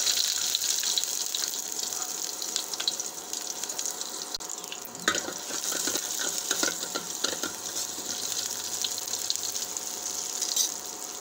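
Crushed shallots go into a pan of hot oil with mustard seeds and a broken red chilli, setting off a steady hiss that swells into louder sizzling and spatter partway through, under no talk.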